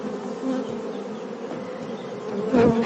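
Honeybees buzzing at a beehive, a dense steady drone of many insects close by, with a louder bee passing near at the end.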